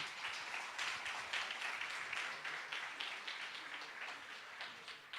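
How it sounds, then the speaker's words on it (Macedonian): Faint, steady applause from an audience, many hands clapping together for about five seconds with no speech. "А сега би сакал само еден аплауз."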